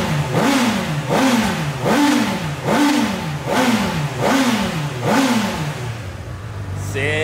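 A Honda CB1000 motorcycle's exhaust revs about six times in a steady rhythm, each blip rising and falling, loud and close, before settling to idle.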